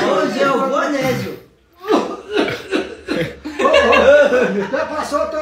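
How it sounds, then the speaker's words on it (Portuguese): A few sharp coughs mixed with chuckling and lively talking, close to the mic. "Você passou a tosse pra ele"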